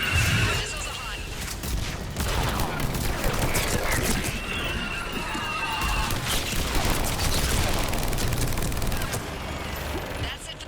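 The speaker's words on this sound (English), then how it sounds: "That's it for the missiles. Switching to the gun." Missiles fire in the Mass Effect Legendary Edition video game as a dense, continuous barrage of booming blasts and crackling explosions. The battle noise stays loud and steady throughout, with some voices mixed in.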